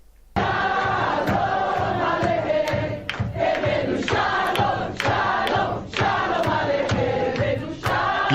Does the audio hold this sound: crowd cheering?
yes